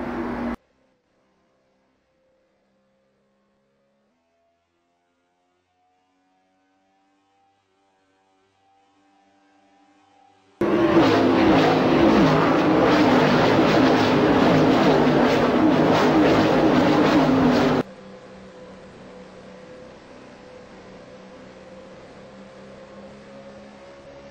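Race cars running nose to tail at Darlington Raceway roar past in a loud, sustained engine drone lasting several seconds, preceded by near silence and a faint rising whine, then dropping to a lower steady hum.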